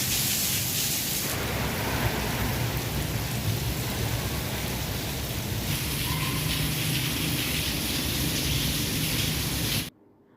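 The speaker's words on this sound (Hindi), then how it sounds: "बाहर बारिश होने लग गई थी, और इतनी ज़्यादा बारिश हुई है ना" Heavy rain pours steadily, a dense hiss of drops drumming on surfaces, continuous and close, ending abruptly near the end.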